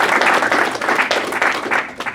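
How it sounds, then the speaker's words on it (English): An audience at a community programme event in Sacramento gives the panel a round of applause, with brisk, close clapping that fades toward the end. "Please give a round of applause to"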